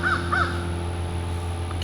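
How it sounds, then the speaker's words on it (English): A raven in Scottsville Cemetery in East Texas gives two quick, loud caws at the start, followed by steady outdoor background hum. "cue the raven."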